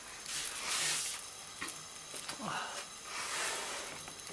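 Yogurt bread for a potato and yogurt gözleme sizzles steadily in a hot pan, a soft continuous hiss with faint stirring and handling noises nearby.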